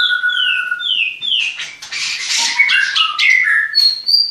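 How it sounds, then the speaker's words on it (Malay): White-rumped shama (murai batu) chicks in a breeding cage call with a steady run of high, sweet chirps and sliding whistled notes, close and clear with no talking. "itu anak-anak murni, anak-anak murai batu"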